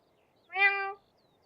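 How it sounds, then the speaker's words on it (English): A cat gives one clear, drawn-out meow, close and fairly loud, rising out of near silence and ending abruptly. "Meow."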